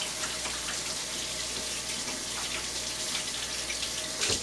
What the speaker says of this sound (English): I'm going to just rinse my hands quickly because I'm working with, you know, raw cookie dough